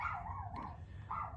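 Dogs bark and howl faintly in the distance, with a drawn-out yelping wail that rises and falls, heard outdoors.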